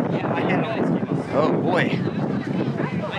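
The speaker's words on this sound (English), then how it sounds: "Pretty windy out." Strong wind gusting outdoors at a Disney theme park, a steady buffeting roar that masks much of the background, with people talking close by over it.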